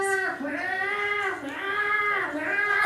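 A comedian imitates a cat crying at night with three drawn-out, wailing meows, each rising and falling in pitch, delivered loud and close.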